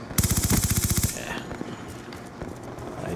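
SMG gunfire in the video game Black Ops 2, a sharp rapid burst of about a dozen shots lasting roughly a second, followed by fainter game sounds.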